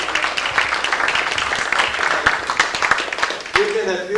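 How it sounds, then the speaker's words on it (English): Audience applause at a 90th birthday celebration, dense steady clapping from a crowd that continues throughout, with someone speaking over it near the end. "Thank you for your applause."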